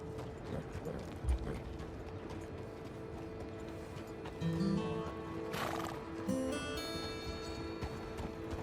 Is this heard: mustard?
no